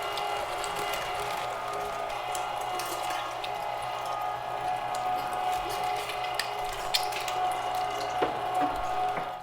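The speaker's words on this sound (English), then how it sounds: "this is where the 1 horsepower really comes into play" A 1 horsepower electric meat grinder grinding cold chicken for sausage, a steady mechanical whir and grinding drone running continuously, close, with occasional clicks and no talking.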